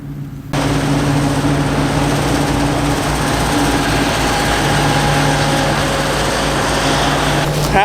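A harvester engine runs steadily close by, a loud continuous droning hum with a constant pitch that starts abruptly and holds throughout, no voices heard.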